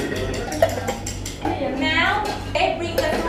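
Utensils scrape and clink against a pan as ingredients are stirred together during a Chiang Mai cooking class, steady close clatter with people talking over it.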